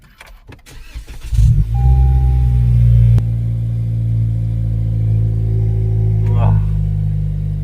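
A Toyota Corolla Hatchback cold-starting nearby: a few clicks and a short crank, then the engine catches and settles into a loud, steady rumbling idle with a brief sharp rev-like flutter toward the end.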